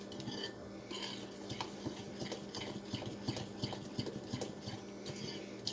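A cup of icing sugar and three tablespoons of milk stirred together in a bowl for cherry bar icing, quiet repeated scraping and light clinks of a utensil against the dish in an irregular rhythm, close but faint, without talk.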